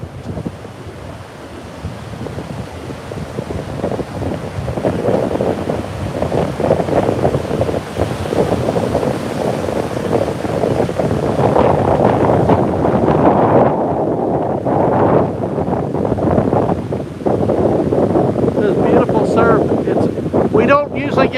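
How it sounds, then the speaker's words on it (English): Strong northeasterly wind gusting around 25 mph buffets the microphone on a beach while heavy surf roars and crashes continuously, loud and close throughout. "We got a northeastern wind at about 17 miles an hour, gusting to about 25. So it's quite windy today,"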